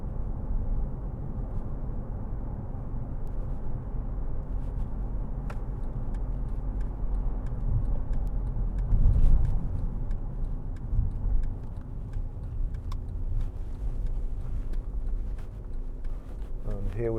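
A 2011 Mercedes-Benz C200 C-Class with 73,544 miles drives along a road, heard from inside as a steady low engine and road drone with faint ticks and a brief swell midway.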